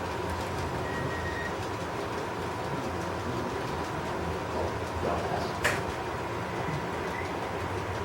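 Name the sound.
model railroad trains running on layout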